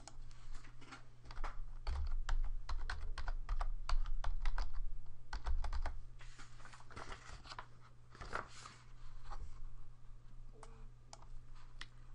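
Typing on a computer keyboard gives a steady stream of close, crisp key clicks over a low hum, thinning to scattered taps toward the end.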